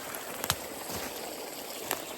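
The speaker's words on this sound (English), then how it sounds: "Nice stream." Clear stream water flowing steadily into a spot fit for launching a canoe, kayak or paddleboard, a soft continuous trickle and gurgle heard close by with a couple of brief splashy pops, no talk.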